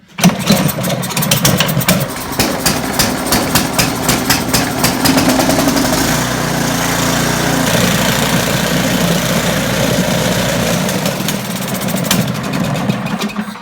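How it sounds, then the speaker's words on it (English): A snowblower engine catches after a cord pull and keeps running loud and close, a rough, busy roar that settles into a steady idle for over ten seconds. "push the gas 3 times, and then pull the cord. And that'll start it"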